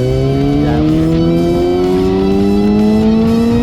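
Revving engine of a 2019 Kawasaki ZX-6R sports motorcycle, rising steadily in pitch as it accelerates through a continuous, loud, close pull with no talk.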